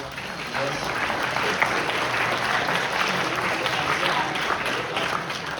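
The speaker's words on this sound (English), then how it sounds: "will you give yourselves a round of applause" A crowd of families at a high school jazz band concert applauds, an even, continuous wash of clapping with murmured voices beneath that stays level throughout.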